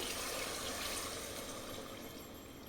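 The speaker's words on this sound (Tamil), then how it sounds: "தண்ணி மெஷர் பண்ணி எடுத்து வச்சுருக்கேன் தண்ணி சேர்த்துக்கலாம்" Measured water poured into a cooking pot for a rice-and-lentil dish, a soft, continuous splashing pour without speech.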